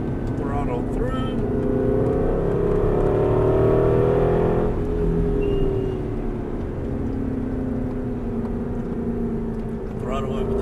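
An Aston Martin V8 Vantage engine pulls hard through a turn on a circuit, its loud, close tone climbing and shifting pitch with a voice speaking over it.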